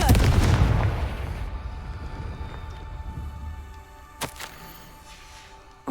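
The Confringo explosive spell cast in Hogwarts Legacy: a loud booming blast that opens the clip and decays slowly into a rumbling tail, with a second sharp pop a few seconds later.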